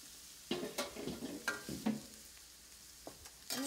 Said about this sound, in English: get those moving around in the pan, get them well coated with oil